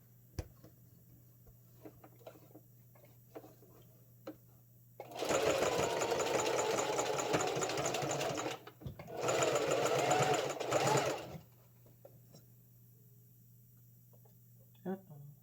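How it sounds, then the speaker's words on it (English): A sewing machine back stitching hat fabric, running in two loud sustained bursts of several seconds with a brief pause between, framed by quiet handling clicks before and after. "Lock that in and ready to roll. Back stitch."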